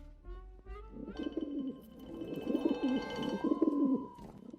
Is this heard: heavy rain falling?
no